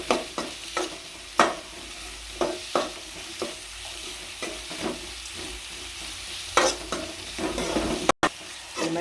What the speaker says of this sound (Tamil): வெங்காயம் போட்டு நல்லா வதக்கிக்கோங்க.